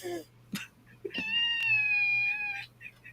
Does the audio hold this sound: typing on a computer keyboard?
no